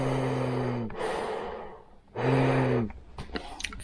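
Two loud, close breaths drawn and pushed through a Trend Stealth half mask respirator, each with a rasping, snorting rush of air and a humming valve vibration, separated by a short pause.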